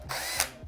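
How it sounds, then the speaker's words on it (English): Milwaukee M12 cordless drill spinning at speed 2, a short whirring burst under a second long that swells briefly near the middle, close and fairly loud with no voices. "Speed 2 on the Milwaukee."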